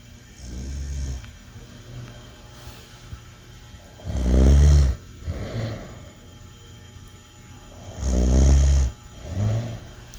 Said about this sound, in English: That's the snoring I get to deal with.